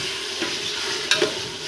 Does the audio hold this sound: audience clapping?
no